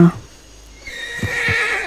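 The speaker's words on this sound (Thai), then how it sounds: "ไอ่ม้าข้านะมันเป็นม้าป่าที่ข้าจับได้จากแถวนี้นะ" A wild horse in the Red Dead western video game lets out a sharp, close neigh at the start, then a few soft hoof clops and a rising ambient hiss follow.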